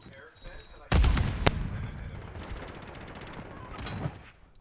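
Gunfire in a plunder-mode video game, with a sniper rifle in use: a sudden loud shot burst followed by a few sharp cracks and a rumbling tail, with another smaller report later.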